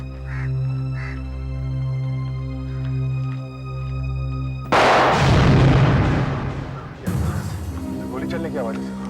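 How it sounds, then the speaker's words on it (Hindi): After a low droning tone, two loud gunshots ring out a couple of seconds apart, each with a long rumbling echo. "गोली चलने की आवाज है।"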